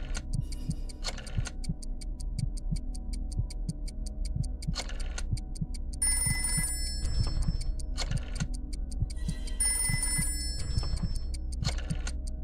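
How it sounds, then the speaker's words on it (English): Rotary telephone ringing in the video game Trivia Murder Party 2, a repeated electronic ring in bursts over a steady low musical bed and ticking, fairly loud and alone with no talking. "Dial one of these numbers on your rotary phone before anyone else, or you die."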